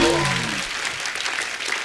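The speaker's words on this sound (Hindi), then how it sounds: "जोरदार तालियां" Loud audience applause with cheering fills a TV comedy show studio, steady clapping throughout under no clear talk.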